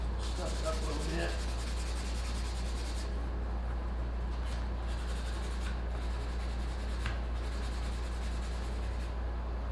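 Coarse sandpaper scuffs leather in several short, rhythmic rubbing strokes, faint and close against a steady low background hum.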